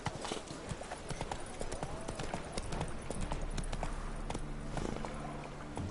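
Hooves of Roach, the horse in The Witcher video game, clip-clopping in a quick steady rhythm close by, continuous throughout with a low background hum, no speech.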